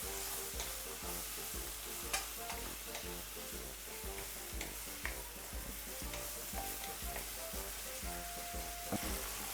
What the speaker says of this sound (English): oh, it's frying up so lovely and nice.